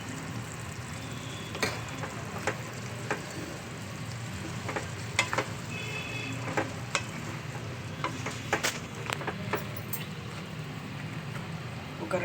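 Boiled chickpeas sizzle in a pan of potato masala curry as a spoon stirs them through, giving steady frying crackle broken by sharp scraping clicks against the pan at irregular intervals.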